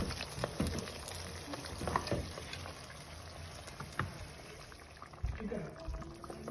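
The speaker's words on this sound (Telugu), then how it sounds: "ఇప్పుడు ఈ మటన్ ఉడుకుతుందండి" Mutton bubbling as it boils in a pan in a Telangana-style kitchen, a steady soft simmer with occasional pops and stirring clinks, heard up close.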